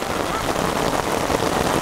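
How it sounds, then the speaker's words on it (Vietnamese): Heavy rain pours down in a dense, even hiss of drops striking surfaces, loud and continuous throughout. "mưa một lúc là nước rất là nhiều luôn này"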